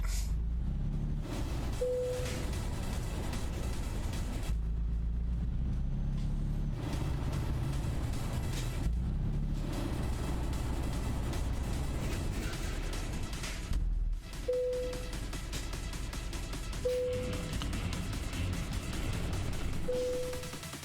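A Mercedes truck in Euro Truck Simulator 2 eases into a parking spot with a low steady engine drone, short hisses of air brakes breaking through at intervals, and a few brief clunks along the way.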